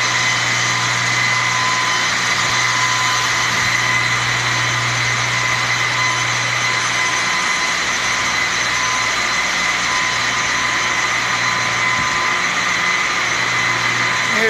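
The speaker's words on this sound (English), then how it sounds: "The blowers." Industrial blowers run at a sewage pump station, a constant loud droning hum with a steady tonal whine, unchanging throughout and without voices.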